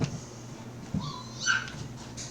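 Dogs in a kennel in the game Dragon Age: Origins whimper and yip, with a few short whines and one higher squeal heard close and fairly loud against a quiet low background hum, with no talk.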